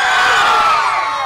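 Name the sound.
young men in a crowd shouting together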